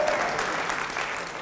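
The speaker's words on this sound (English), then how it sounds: "Okay, let's clap some more." Audience applause at an evening talk, a dense, steady wash of many hands clapping that holds at an even level from start to finish, with no voices over it.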